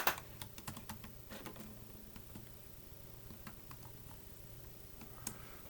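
Keys on a computer keyboard being typed in irregular bursts of sharp clicks, loudest at the start and then lighter and sparser, close by with no talking.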